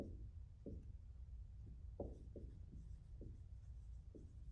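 A pen scratches out writing on a surface during a compound-interest math lesson, a quiet run of short strokes and taps at close range with no talking.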